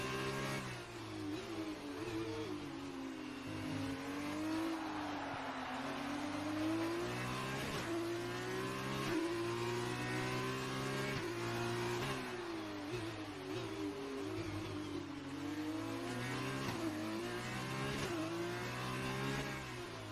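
Formula 2 race cars in a racing video game drive through the Baku circuit, with a continuous close engine whine that rises and falls through upshifts and downshifts, overlapping cars revving, and no talk.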